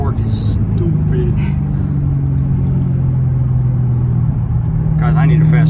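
Supercharged car powering up a steep hill, a heavy low engine drone that holds and climbs steadily from inside the cabin, while someone talks over it at the start and end.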